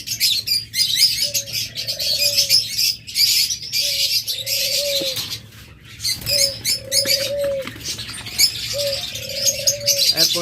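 Caged pet birds at a bird market, including lovebirds and budgerigars, chirp and twitter nonstop while soft, repeated dove-like coos sound in the foreground, with no talking.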